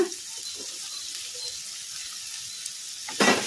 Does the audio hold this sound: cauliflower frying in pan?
yes